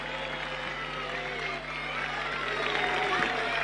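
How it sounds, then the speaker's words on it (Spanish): Crowd applause for tennis player Pedro Cachín after a match at a tennis tournament in Luanco, a dense, continuous clapping that swells slightly toward the end, with a voice talking faintly over it. "Ese fuerte aplauso, por favor,"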